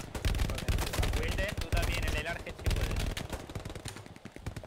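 Rapid bursts of machine gun fire ring out in a Hell Let Loose World War II battle, several loud clipped volleys in quick succession with brief gaps, crackling close by.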